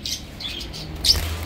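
Birds chirp and squawk in short bright calls at a busy Baghdad animal and bird market where pigeons are sold, with a few tweets close by over a low background murmur.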